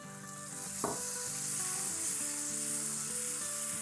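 Masala roasting with tomato puree in a pan for a dhaba-style chicken and egg stew, a steady loud sizzle with a stir scrape, over soft background music.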